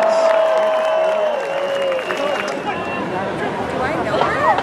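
Crowd applause and cheering at a USC band pep rally in an outdoor plaza in San Francisco, a broad roar of clapping and voices with sustained tones and whistles layered over it.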